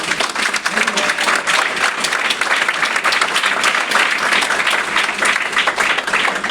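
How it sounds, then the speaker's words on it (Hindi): Sustained, loud applause from a large audience at a Vestige business meeting, dense clapping filling the whole stretch with some crowd noise mixed in. "वेस्टीज मैनेजमेंट वाली सर, दीपक सर, कनौर सर के लिए जोरदार ताली हो।"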